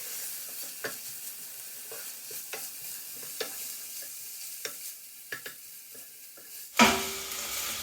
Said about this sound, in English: I'm going to mix it in with the onions, and we're going to cook that until all the beef has gone nice and brown